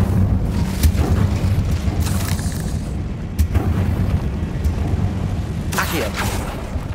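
Incendio fire spell cast in Hogwarts Legacy, loud booming bursts and whooshing flares repeating over a dense rumbling battle backdrop.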